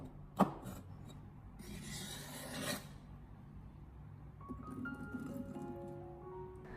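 A knife dices green chili peppers on a cutting board, with a sharp chop at the start and a longer scraping rasp in the middle, followed by quieter faint taps and soft rubbing under light background music.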